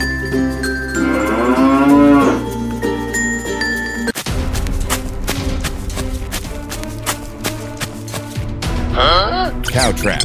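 A cartoon cow moos loudly in long drawn, wavering calls, first near the start and again at the end, over a busy soundtrack of clattering hits and music.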